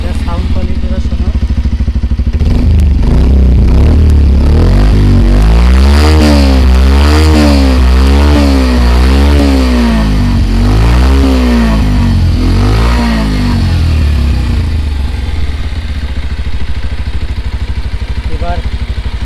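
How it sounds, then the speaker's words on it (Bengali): A Bajaj Pulsar 125 BS6 motorcycle starts up close by and revs its engine several times, the exhaust note rising and falling in repeated swells over a steady idle, loud throughout. "বাইকের স্টার্ট দিয়ে তোমাদের সাউন্ড কোয়ালিটিটা শোনাবো"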